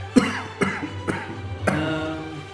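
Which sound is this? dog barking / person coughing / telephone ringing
person coughing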